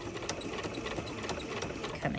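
Sewing machine stitching a lapped seam of the sort used for appliques and patches, a steady close mechanical whir running without a break.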